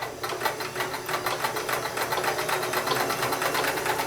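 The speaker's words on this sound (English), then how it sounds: "you'll hear a little bit more mechanism working inside the machine because it is working the fabric back and forth" A Sears Kenmore 158 series free arm sewing machine runs a stretch stitch, a steady fast mechanical whirring and rapid ticking of the needle mechanism at moderate, close volume.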